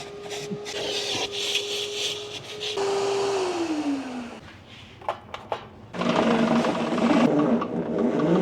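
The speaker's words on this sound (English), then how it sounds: "Literally, I just vacuumed and cleaned the floor mats" A vacuum motor whirs steadily up close while cleaning a Porsche 996 Turbo's interior, its pitch dropping as suction shifts, with scraping and knocks before the roar swells louder again.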